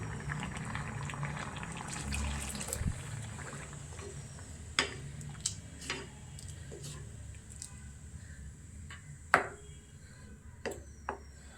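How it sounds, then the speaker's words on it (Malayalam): Coconut milk goes into a potato stew in a pan, opening with a close bubbling pour and simmer, then quieter bubbling broken by several sharp utensil clinks. "നമുക്ക് തേങ്ങാപ്പാൽ ഒഴിച്ച് കൊടുക്കാം."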